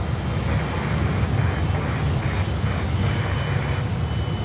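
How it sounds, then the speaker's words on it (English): An Avianca Cargo Airbus A330 lining up on a Miami airport runway gives a steady, broad jet engine roar, distant and continuous, with a constant wind-like hiss over the whole stretch. "now we have this Avianca Cargo 330 lining up here on runway"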